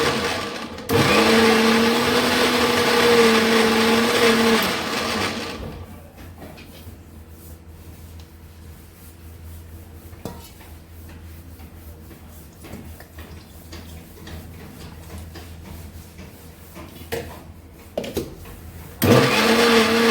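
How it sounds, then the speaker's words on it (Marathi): A kitchen mixer grinder whirs loudly for about four seconds as it purées mango pulp with sugar for aamras. Then a long stretch of quiet kitchen noise follows before the motor roars up again at the end. "त्याला आता छान मिक्सरमधून बारीक"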